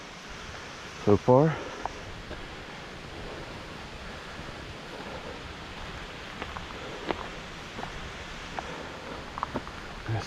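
Mountain creek flowing beside a trail up to Le Conte Lodge in the Great Smoky Mountains, a steady broadband rush of water that continues throughout, with a brief voice and a few footstep-like knocks over it.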